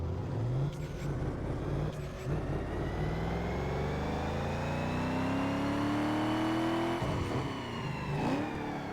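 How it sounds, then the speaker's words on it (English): Cadillac Escalade 6.0L V8 in Need for Speed Underground 2 revving through a dyno pull, the engine note climbing steadily for about seven seconds before dropping briefly and rising again, loud and continuous with no talk. "first do a dyno pull and show you guys how much power this Cadillac has"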